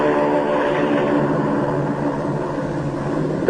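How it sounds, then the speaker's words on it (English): A PBM flying boat makes its takeoff run on the water in polar conditions, a loud, steady propeller-engine roar with rumble that holds without pause. "On the water, the great PBM makes her takeoff run."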